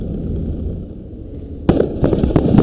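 Grenade-like blasts in the military shooter Squad: after a stretch of low rumbling ambience, a sudden loud burst hits, then several more sharp pops and booms follow in quick succession nearby.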